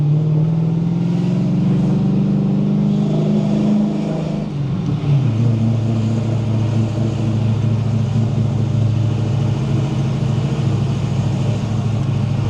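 A Rover SD1 Twin Plenum Vitesse climbs a steep hill, its engine droning loudly and continuously close up, the pitch dipping briefly partway through before settling into a steady pull, with no speech.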